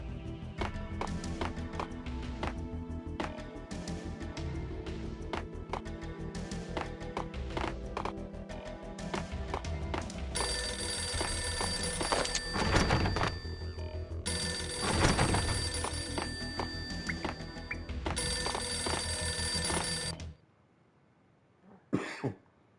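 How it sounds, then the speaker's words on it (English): An old, beaten-up telephone rings in an entrance hall in the Max Payne game, its bell sounding in repeated loud bursts over busy game noise and music before everything drops to near silence. "A beaten-up phone in the entrance hall was ringing."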